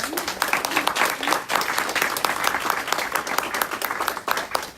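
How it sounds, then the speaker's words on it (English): An audience at an evening girls' contest celebration breaks into sustained applause, many hands clapping close and loud with fluctuating intensity across the whole stretch. "please give yourself a round of applause again"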